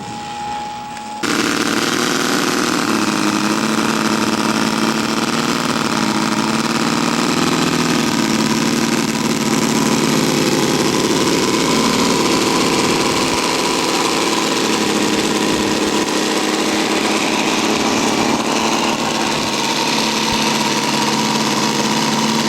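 A scale model aircraft engine at an outdoor model show drones loudly and steadily through a touch-and-go, a sustained buzzing roar that begins abruptly and holds for the whole stretch.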